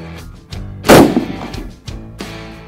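A Blaser R8 Ultimate rifle fires a single loud, sharp shot from a rested shooting position, followed by a short decaying echo against a faint tonal background.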